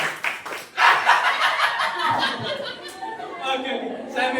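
Group of schoolchildren clapping their hands in a classroom, a burst of close, uneven clapping mixed with giggles, chuckles and chatter, with children's voices talking over it.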